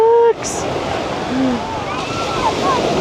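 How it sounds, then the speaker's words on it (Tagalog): Strong ocean waves roll in at Patar Beach in Bolinao, a loud continuous roar of surf with windy microphone rumble, briefly topped by a voice at the start. "Grabe, ang lakas ng alon"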